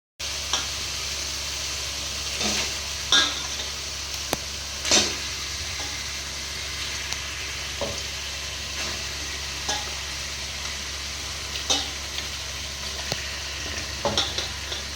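Meat tossed into a pan of cooked-down spice masala fries with a steady close sizzle, broken by scattered light clinks and scrapes of stirring.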